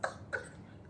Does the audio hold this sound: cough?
yes